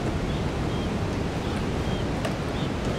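Ocean waves wash against the rocky coast below Uluwatu Temple in Bali, a steady, close, broadband surf roar without breaks, mixed with some wind.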